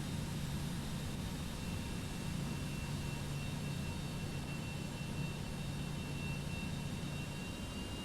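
A simulated Cessna Citation X C750 business jet taking off in Microsoft Flight Simulator 2024, a steady broadband engine roar with a low hum and faint high whine, constant and unbroken, no speech.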